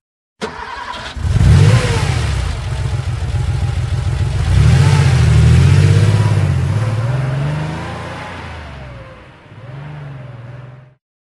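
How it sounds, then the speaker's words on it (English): A car engine in the video game Landscape starts with a sharp catch, then revs up and down in loud, close surges before settling to a lower run and a final short rev. "Car."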